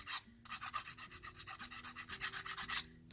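A hand file works an electroformed resin piece in quick, rhythmic back-and-forth rasping strokes, about a dozen even passes, close and quiet with no talk.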